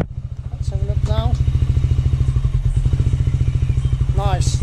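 KTM Duke 125 motorcycle idling close by with a steady, rapid single-cylinder thump, holding even as the clutch lever is released, while someone talks over the engine.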